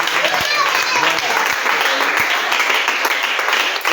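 Sustained applause from a church congregation acclaiming the Lord during worship, dense and even clapping that fills the room for several seconds, with voices faintly mixed underneath.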